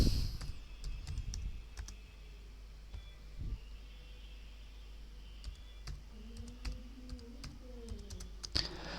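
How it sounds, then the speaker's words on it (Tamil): Sparse, quiet clicks of a computer keyboard tapping out a name, scattered irregular keystrokes over a low steady hiss with no talking. "இப்போ என் நேமை டைப் பண்ணிட்டேன்."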